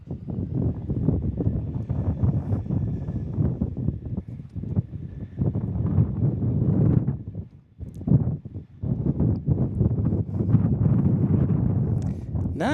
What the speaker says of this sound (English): The wind's gusting close to 40 miles an hour.